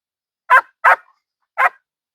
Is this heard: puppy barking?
yes